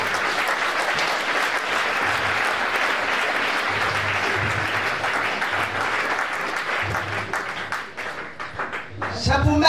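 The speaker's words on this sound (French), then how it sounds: "acclamez pour les femmes." Church audience applauding the women in a continuous, loud wave of clapping that holds steady and then thins out toward the end.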